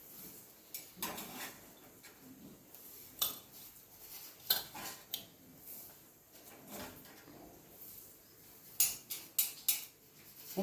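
Salted peanuts are dry-roasted in a pan and stirred, giving quiet, scattered scraping and rattling knocks with occasional louder clinks against the metal, close by and with no talk.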